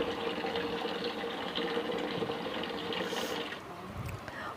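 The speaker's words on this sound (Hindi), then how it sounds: "तो इनको अच्छी तरह से धो लें खुले पानी में" Arbi (taro) leaves rinsed under open running water into a large tray, a steady continuous splash and trickle that holds close and even throughout, with no voices.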